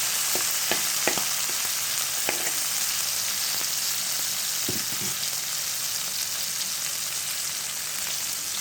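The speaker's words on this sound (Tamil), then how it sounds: "பூண்டு, வெங்காயம், தக்காளி, கருவேப்பிலை இதெல்லாம் நிறையா எண்ணெயில் ஒரு 3-4 கரண்டி எண்ணெயில் நான் இதெல்லாம் வேக விட்டுருக்கேன்" Garlic, onion, tomato and curry leaves fry steadily in a generous amount of hot oil, a continuous close sizzle with a few sharp pops and crackles early on and no voices.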